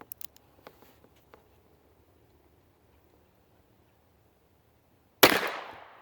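A single loud gunshot from an H&R Model 925 .38 S&W revolver cracks sharply near the end and rings out briefly, preceded by several faint clicks and ticks from handling the gun in otherwise quiet surroundings.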